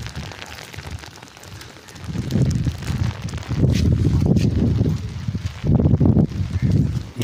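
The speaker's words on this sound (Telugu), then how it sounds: "ఫుల్ వర్షం పడుతుందో" Heavy rain pours down outdoors, a dense rushing hiss that swells louder partway through with gusty, rumbling surges and no clear speech.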